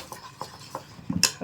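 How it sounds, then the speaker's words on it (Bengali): A spoon clinks and scrapes around a large bowl while flour batter is mixed with water for a children's tiffin snack, giving a few soft taps followed by a brighter metallic clink, up close and fairly quiet. "ভালো করে মিশিয়ে নিচ্ছি।"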